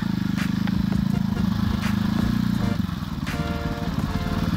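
KTM 500 EXC off-road motorcycle ridden between timed test sections at an Arizona off-road race; a steady, close engine drone with rhythmic pulsing that shifts pitch partway through.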